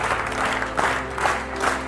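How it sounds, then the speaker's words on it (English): An audience at a health-themed talk applauds, a dense patter of many hands clapping with a few louder surges, heard alone at close range. "Let's clap it up for change."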